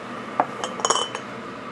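Lids being tightened on glass jars of strawberry and blueberry jam, a few light glassy clinks and taps spaced irregularly over a quiet background.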